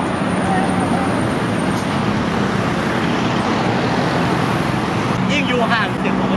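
Loud roadside traffic rumbles steadily with passing cars and other vehicles, a dense continuous wash of engine and tyre noise close by, with a faint higher whine near the end.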